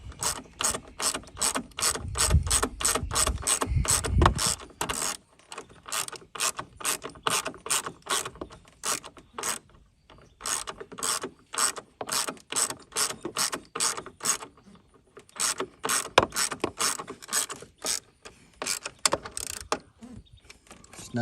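A ratchet wrench tightens the battery terminal on a 2018 Ford Edge, producing rapid, crisp clicking bursts in repeated strokes with brief pauses between, close and loud with no talking.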